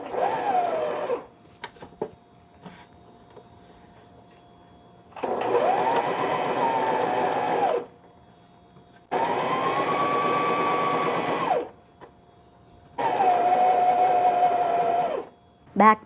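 Sewing machine stitching saree blouse fabric with lining, running in three or four steady bursts of rapid needle hum, each a few seconds long, separated by quiet pauses, close and clear.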